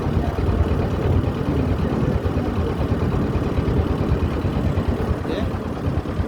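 A boat engine drones steadily and loudly throughout, close by, a low continuous rumble heard from the boat's roof amid big waves on Chalan Beel, with no words spoken.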